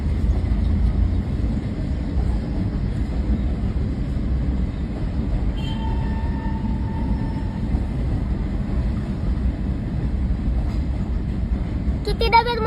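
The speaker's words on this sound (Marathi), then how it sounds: "खूप मोठी मित्रांनो ट्रेन।" A long passenger train with AC coaches rolls past close by, a continuous low rumble of wheels and carriages with a brief faint squeal midway and a rattle at the end.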